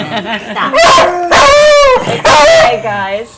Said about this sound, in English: that's the sound of a beagle